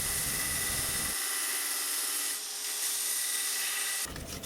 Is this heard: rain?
no